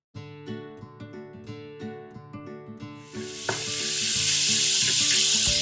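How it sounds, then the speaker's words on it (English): Lobster tails hit a hot pan on medium-high heat, and after a few seconds of music a loud, broad hiss of sizzling swells up and holds steady. "I'm going to add in my lobster tails now. And I'm also going to turn up the stove to medium high"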